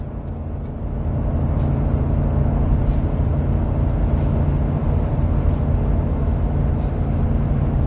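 A Ford F250 with the 7.3L Godzilla V8 gasoline engine tows a heavy load of about 14,000 lb, giving a loud, steady low drone of engine and road noise from inside the cab, swelling in the first second and then holding even.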